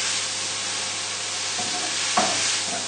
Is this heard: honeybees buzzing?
no